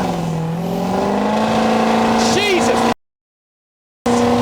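A 1200-horsepower 6.0L Powerstroke diesel truck roars at wide open throttle, a loud sustained engine drone with rising pitch up close, cut by a sudden dropout, while someone shouts an exclamation over it.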